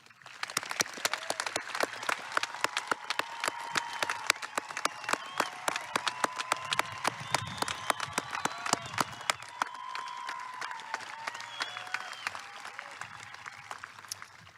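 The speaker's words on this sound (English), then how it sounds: "please join me one last time in offering a resounding round of applause" Crowd at a high school graduation ceremony delivers a long, steady round of applause for the graduating class, many distinct claps forming a continuous patter that holds evenly for about fourteen seconds, heard from some distance.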